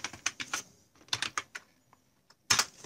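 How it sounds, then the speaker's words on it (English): Keys clack on a computer keyboard in short, quick bursts with brief pauses between them, close and crisp in an otherwise quiet room. "go to start and type here reg edit"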